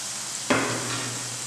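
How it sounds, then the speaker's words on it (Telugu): A sudden sizzle as something hits hot oil in a pan for egg curry, a bright crackling burst that settles into a steady frying hiss for the rest of the moment. "రెండు నిమిషాలు ఆయిల్ బాగా ఫ్రై అయిన తర్వాత"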